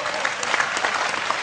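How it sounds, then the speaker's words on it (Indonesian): Applause from an audience at an evening talk show with Cak Nun and Gus Ipul, a dense steady clatter of many hands clapping, fairly close and continuous throughout. "Oke, tepuk tangan ya."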